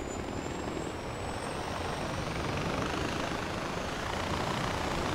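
A helicopter in Far Cry 4 gives a continuous, dense rotor and engine roar with a faint high whine, steady and moderately loud, heard alone without talk.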